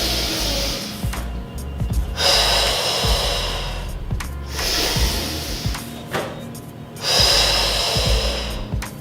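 Deep breaths during a postnatal butt and core workout, heard as several long, loud, close breaths in and out in a slow repeating rhythm, with faint thumps and rustling of movement between them.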